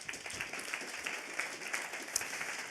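Audience applause welcoming speaker Anthony Morel at a morning conference, a steady mid-level patter of many hands with a few sharper claps.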